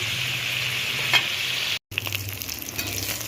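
Flat beans fry in oil with a close, steady sizzle and crackle, briefly cut off by a moment of silence, then resume with scraping stirs through the pan.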